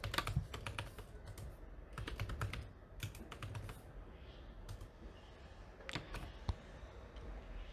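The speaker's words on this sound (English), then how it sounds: "So now I'll type in password root" Close-up typing on a computer keyboard: bursts of crisp key clicks in quick runs with short pauses between, ending in a few isolated, heavier keystrokes.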